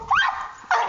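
A chihuahua barks twice in a backyard, two sharp, close yips separated by a short gap, with no talk over them.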